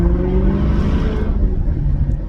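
A Maserati GranTurismo S with its exhaust valves removed gives a deep, loud, continuous rumbling drone from close by, with a steady low engine tone throughout.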